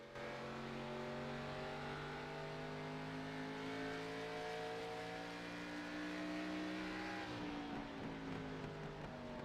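Several ARCA Series stock cars in a sim racing game at Milwaukee drone steadily as they run close together, engines holding a sustained multi-layered tone before one note drops as a car passes near the end.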